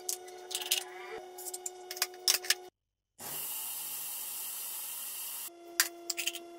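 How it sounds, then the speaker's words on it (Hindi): An electric grinder turns rice into coarse flour, a steady, loud whirring hiss lasting about two seconds. Sharp clinks and rattles of the jar and lid come before and after it. "यहाँ मेरे पास है चावल और मैं इन्हें ग्राइंडर में डालकर पीस लूँगी।"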